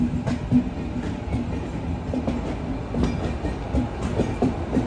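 Aboard the Millennium Express sleeper class, the train rumbles steadily along the rails, with a low continuous roll broken by periodic clacks of the wheels. No voices.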